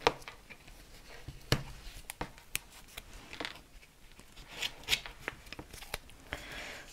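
Strips of tear-off adhesive tape ripped and pressed down while assembling a handmade paper mini album, giving a series of sharp, close crackling tears and taps with brief pauses between them.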